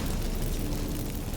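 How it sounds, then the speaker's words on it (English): Magic incense activating in The Witcher 3: Wild Hunt, a dense, steady roaring whoosh like a burst of magical fireworks, loud and sustained for about a second and a half with no talking. "Get ready for some magic fireworks."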